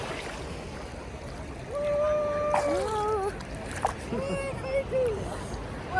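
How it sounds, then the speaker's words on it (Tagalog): Strong sea waves wash and splash steadily at Alicante beach, a broad continuous roar rising louder midway, with several short exclaiming voices over the surf. "Ang lakas ng alon."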